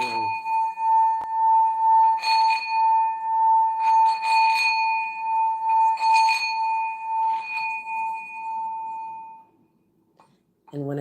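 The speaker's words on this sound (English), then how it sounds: "I love a sound bowl for that." Singing bowl ringing with a clear sustained tone around a steady hum, struck or rimmed several times so the shimmer pulses for about nine seconds before fading to near silence, with a voice briefly starting at the end.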